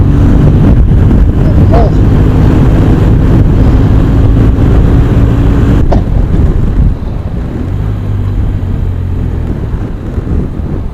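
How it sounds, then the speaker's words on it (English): Strong wind buffeting on an exposed hilltop, a loud continuous low roar battering the microphone, easing slightly toward the end, with voices under it. "It's quite windy up here as usual."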